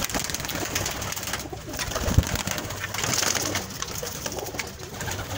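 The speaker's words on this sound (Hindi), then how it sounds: "तुहाडे वास्ते जनाब 50 कबूतर लै गए हैं" Racing pigeons of a flying breed, a flock of about fifty, coo steadily in the background amid constant chirps and rustling, with a single louder thump partway through.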